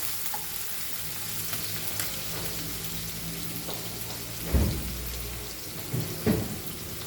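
Steady frying sizzle in a pan while cooking Goan fish curry, a continuous hiss with a few louder stirring scrapes near the end and no talk.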